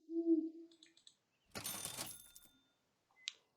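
An owl hoots once in the video game Super Auto Pets, followed by short chiming game effects and a brief burst of shuffling noise, all close and clean with no talking.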